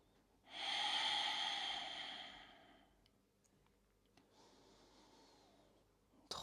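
Slow, deep breathing held during a yoga pose: one long, strong exhale through the nose, a pause, then a softer, airy inhale, close to the microphone in a quiet room.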